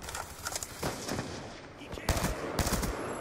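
Bursts of light machine gun fire from Black Ops 2 rattle in short rapid volleys amid other distant gunfire in a multiplayer match, fairly loud and close.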